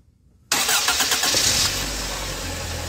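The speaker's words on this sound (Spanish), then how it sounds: "A ver, prende el carro, Romeo." A 1995 Toyota Camry engine cranks and catches after a short silence, then settles into a steady idle, loud and close.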